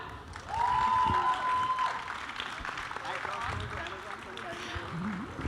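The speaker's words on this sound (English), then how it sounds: "huge round of applause for them." An audience at a web series launch event bursts into applause, a loud swell of clapping that tapers to a steadier patter, with a brief whistle-like tone near the start.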